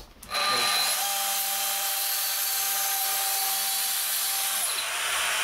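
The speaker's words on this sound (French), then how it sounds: "on va utiliser pour cela une scie circulaire plongeante" A plunge circular saw scores a shallow cut into melamine-faced board, with a steady, loud whine that runs almost unbroken for about five seconds after a quick start.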